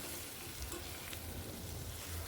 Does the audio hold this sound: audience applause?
no